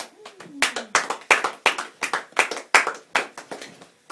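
Sparse, distinct hand claps from a few people after a lecture, roughly three per second in an uneven rhythm, close and crisp with silence between them and a brief vocal sound early on.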